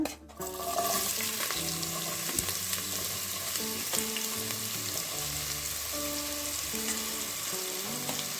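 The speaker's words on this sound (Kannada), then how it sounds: "ಈಗ ನೀರುಳ್ಳಿ ಹಾಕ್ಕೊಳ್ಳೋಣ" Chopped onion sizzles steadily in four or five spoons of hot coconut oil in a pressure cooker on a gas stove, a continuous close crackle with occasional stirring scrapes under background music and no talking.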